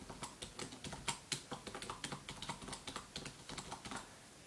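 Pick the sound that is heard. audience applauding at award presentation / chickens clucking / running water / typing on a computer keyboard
typing on a computer keyboard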